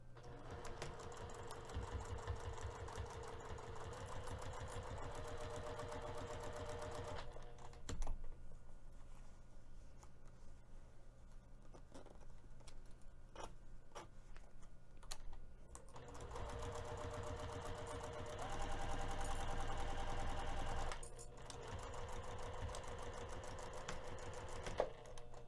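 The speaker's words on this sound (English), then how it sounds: "we're going to be sewing the entire top edge from one end to the other using a quarter of an inch seam allowance" A sewing machine stitches the full top edge seam of a crossbody bag at a quarter-inch allowance, running in steady rapid bursts with a short pause midway before the motor resumes, close and alone with no talk.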